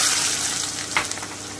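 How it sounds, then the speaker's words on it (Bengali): Sliced onions frying in hot oil for birista, a close, continuous bubbling sizzle with a brief stir partway through. "আমি বেরেস্তা ভেজে নিচ্ছি।"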